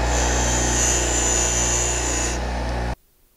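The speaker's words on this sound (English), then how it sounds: "I'll take it over to the bench grinder and clean up these burrs." A bench grinder runs loud and steady close by, taking burrs off a freshly cut metal pivot pin, with a bright sustained whine that cuts off abruptly near the end.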